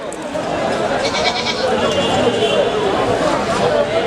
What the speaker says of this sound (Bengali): এই দুইটা খাসি ছাগল দেখতে পাচ্ছেন